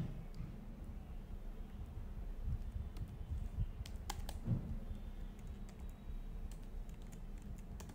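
Steady computer keyboard typing of code for an Angular 17 blog application, continuous close key clatter with a few sharper clicks, no voices.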